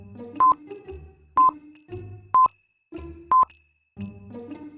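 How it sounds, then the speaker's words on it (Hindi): A telephone keypad dials out with five short, evenly spaced DTMF beeps, each a clear tone burst, separated by low handset hum and clicks. "मेहुल बैंक को फोन करके इन्फॉर्म कर देता है"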